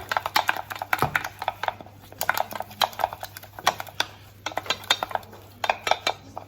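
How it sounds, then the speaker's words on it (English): A spoon beats and stirs thick choux pastry dough in a hot pan, producing rapid, rhythmic knocks and scrapes against the metal, close and clear over a low steady hum, with no voices. "You keep on stirring it, and it will start to go to like a ball."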